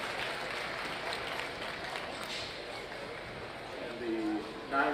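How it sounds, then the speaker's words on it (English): A crowd applauding young exhibitors at a market lamb show, steady dense clapping at moderate distance that swells slightly toward the end, with faint voices mixed in. "Let's give these youngsters with an excellent set of crosses a very nice round of applause."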